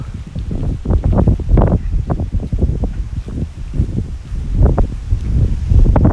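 Strong storm wind on a Tokyo street lined with cherry trees comes as loud, gusting buffets and rumbling roars against the microphone, rising and falling in repeated bursts with no talking.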